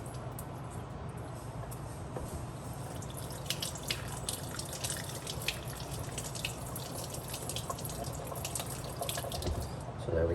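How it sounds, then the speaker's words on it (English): Tap water runs steadily from a sink faucet as a clogged faucet filter screen is rinsed under it, making a continuous, even splashing rush at moderate volume. "So all we're gonna do is rinse this filter off"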